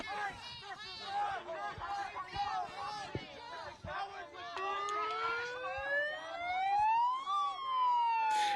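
A police siren wails and yelps during a protest in Minneapolis, first in fast warbling cycles, then in long rising and falling sweeps, moderately distant, with people talking over it.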